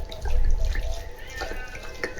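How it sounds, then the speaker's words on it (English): Liquor from a whole bottle glugs and splashes down a sink drain, a steady close pour of running liquid with scattered drips. "Pour a whole bottle down the drain."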